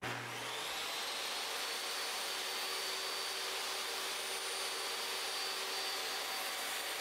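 A DeWALT DWE7491RS table saw blade spins with a loud, steady high-pitched whine and motor roar, running continuously without winding down.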